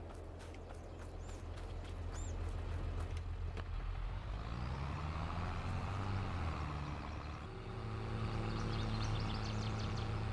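Farm vehicle engine in Farming Simulator 22 on a US farm in Alma, Missouri, with a steady low rumble and grinding mechanical clatter, rising slightly toward the end as it rolls in.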